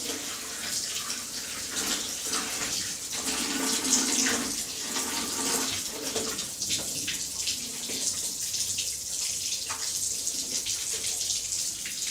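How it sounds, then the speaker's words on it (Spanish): Cold water runs steadily from a sink tap at an outdoor wash basin beside a grill, a continuous splashing stream with faint outdoor background. "de aquí nos vamos a la pileta, a la canilla con agua fría"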